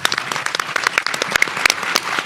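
An audience at a Capitol Hill advocacy event for rare disease week applauds, a dense, steady wash of many hands clapping indoors at moderate loudness.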